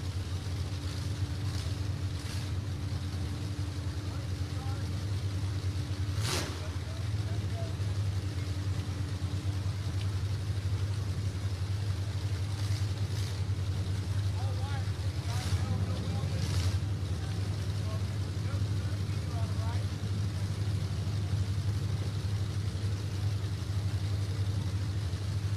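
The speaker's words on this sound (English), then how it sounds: "Drivers have fired up their engines." Race car engines idle together before the start of a heat with about thirteen drivers, a steady low rumble throughout with a few brief louder bursts, wind noise and faint voices in the background.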